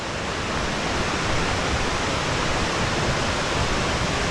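Waterfall cascading along a hiking trail, a constant, dense broadband roar that stays loud and unbroken from start to finish.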